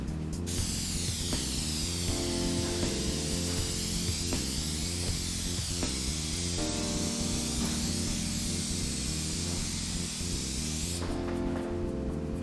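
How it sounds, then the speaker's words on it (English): Steady aerosol spray of clear coat onto a headlight hisses continuously for the whole stretch, close and loud, with faint tonal hum underneath and a brief burst of sharper hiss near the end. "we are about to apply our second clear coat. Again, spray a little to get all the crusties off the nozzle"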